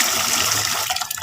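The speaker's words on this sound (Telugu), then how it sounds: "ఇదిగోండి శుభ్రంగా వాష్ చేసుకుంటున్నానండి" Rice and urad dal for dosa batter being swished and washed in water, a short close sloshing splash of liquid that tapers off at the end.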